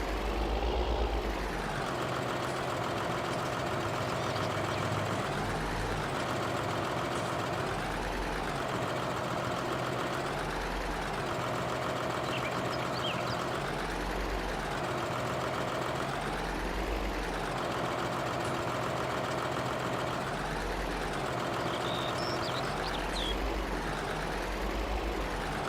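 A tractor engine idles steadily in Farming Simulator 19, a low continuous rumble with a rhythmic, pulsing drone that swells and dips every few seconds, close and moderately loud with no talking.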